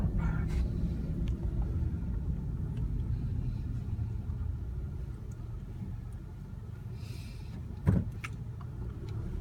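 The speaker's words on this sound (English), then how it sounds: "Let this car by." A car passes on a lakeside road near ducks, a low rumbling engine swelling and fading over several seconds, heard from inside a pulled-over vehicle, with a short knock near the end.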